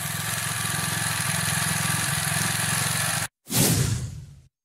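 Honda XR2600 pressure washer engine running at a steady, loud close-up drone. It cuts out briefly, roars again and then stops.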